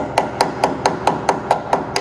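A hammer striking a truck frame rail, nine sharp, evenly spaced metallic blows in a steady rhythm, loud and close with no talk.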